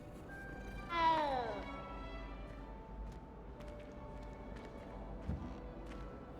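A cat meows once in the video game Hogwarts Legacy, a clear rising-and-falling call outside a castle, set against quiet ambient game sound with a soft thud later on.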